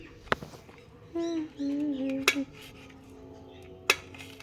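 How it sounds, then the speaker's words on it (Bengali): Knife clinking and scraping against a plate while grapes are cut into pieces, a few sharp taps and clicks spread across the moment, with a voice briefly heard in between. "এই যে মা ছুরি দিয়ে কাটছে আঙ্গুর।"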